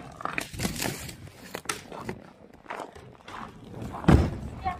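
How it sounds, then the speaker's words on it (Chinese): Footsteps crunching on fresh snow in a rural northeastern Chinese village before dawn, uneven close steps with crisp crunches and thuds, one heavier step near the end. "雪脚底下是雪，一踩都吱嘎吱嘎的响。"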